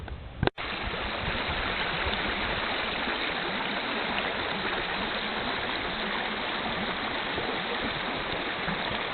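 Alpine mountain streams rush continuously through a valley by Flower Springs Lake in the Canadian Rockies, a dense, even wash of flowing water close by, with one sharp click near the start.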